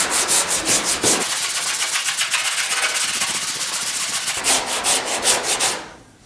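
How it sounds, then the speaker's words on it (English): Sanding set body filler on a GTO restomod fender: steady, close abrasive rubbing strokes with a rhythmic scrubbing pulse, running loud for about six seconds before stopping abruptly. "so let's get some sanding done."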